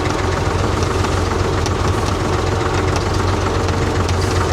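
A farm tractor's engine idles steadily at close range, a low, continuous rumble with faint knocking throughout, and no voices.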